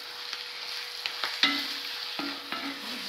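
Chili powder, coriander powder and garam masala being stirred in a frying pan for beef fry, with soft sizzling under several distinct scraping strokes of a spoon, no talk.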